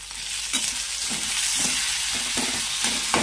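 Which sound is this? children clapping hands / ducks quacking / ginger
ginger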